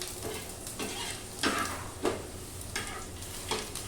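Dried red chillies and garlic frying in oil, a low, steady sizzle broken by several scraping strokes of a spatula against the pan at an uneven pace.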